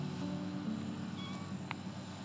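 A gray striped tabby in a colony of cats gives faint, thin meows over a steady, low background hum outdoors, with no clear talking.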